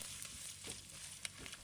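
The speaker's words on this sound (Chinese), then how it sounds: "接着把切好的鱿鱼丝倒进锅里翻炒" Squid strips stir-frying in lard in a wok, giving a faint, steady sizzle broken by a few soft scrapes and clinks from stirring.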